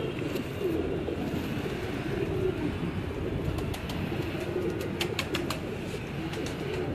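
Batera pigeons coo softly on a rooftop in Sialkot, a low rolling murmur that runs steadily throughout, with faint clicks and distant background noise and no talking.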